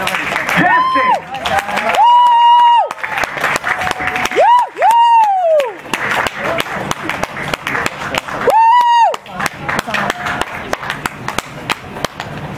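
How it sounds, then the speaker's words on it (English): Scattered clapping and cheers from an audience at a jazz burlesque dance show, interrupted by loud, drawn-out whoops and shouted calls that rise above the crowd noise. "Let's give them a round of applause."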